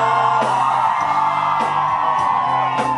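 A crowd at a live show in Dourados, MS, whoops and shouts together in a loud, sustained roar, with sharper yells cutting through at intervals over music.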